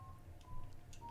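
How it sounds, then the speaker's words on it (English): A phone in a horror video game dials the police, a quick series of faint electronic keypad tones with short gaps between presses, heard alone over low background hum. "You tried to call police for the help, but they aren't answering."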